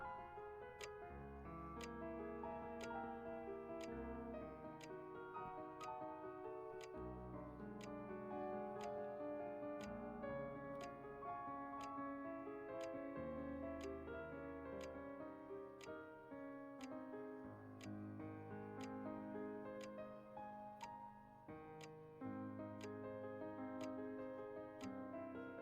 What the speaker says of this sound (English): Lulled by the ticking of the clock